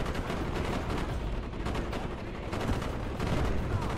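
Rapid, continuous automatic gunfire from a heavy-recoil weapon in the video game Call of Duty Black Ops, loud and dense with no pauses across the whole stretch.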